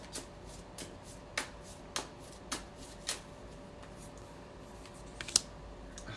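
Cards pulled one at a time from a deck, giving sparse, light snapping flicks spaced roughly every half second, then a quick cluster of sharper snaps near the end, fairly close with a faint steady hum beneath.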